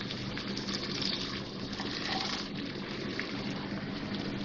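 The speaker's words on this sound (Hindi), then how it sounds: "थोड़ा सा भूनने के बाद इसमें थोड़ा सा पानी डाल रही हूँ मैं, 2 टेबल स्पून।" Water, about two tablespoons, is poured into garlic-ginger paste frying in a wok, giving a steady, loud hissing sizzle that holds evenly throughout with no talk.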